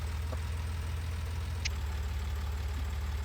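A tractor engine idles in the Farming Simulator 19 video game, giving a steady, loud low-pitched drone throughout with a brief faint click partway through.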